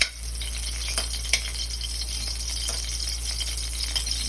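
Garlic fries in hot oil in a pan for sautéed sardines, giving a continuous crackling sizzle with faint scattered pops and light utensil rattles.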